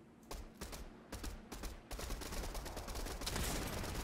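Gunfire in the video game Fortnite, a rapid run of sharp shots in bursts that merges into dense continuous firing, fairly faint.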